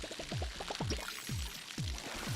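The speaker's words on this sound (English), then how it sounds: "And I water it." Water poured onto a plant in the video game Palia gives a quick run of bubbly, gurgling glugs, then a few spaced splashes, fairly quiet and alone with no talk.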